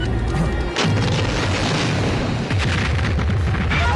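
Explosions from an attack on a spacecraft in a science-fiction drama boom loudly and almost continuously. A dense, rumbling barrage runs through with brief dips in between.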